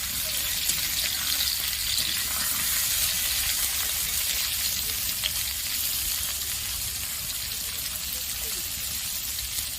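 Pointed gourd (potol) slices fry lightly in a pan with steady, close, continuous sizzling. The sizzle is loud and unbroken from start to finish.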